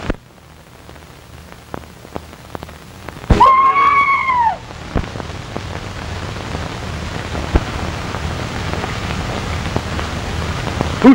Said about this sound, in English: Who screamed?